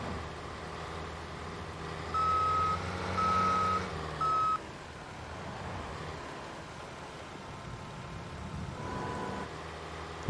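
An electric Bobcat in Farming Simulator 22 gives three short reversing beeps in quick succession over a low engine and rain-like hiss, followed by steady machine rumble.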